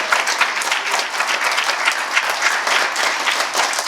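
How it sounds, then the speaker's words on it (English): A live audience bursts into steady, dense applause for the newly announced First Party for Bolingbrook political party, loud and continuous with many hands clapping together and no talk over it. "how about a big round of applause for your First Party for Bolingbrook?"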